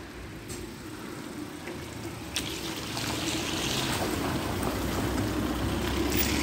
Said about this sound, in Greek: Εδώ τα νερά τρέχουν πάρα πολύ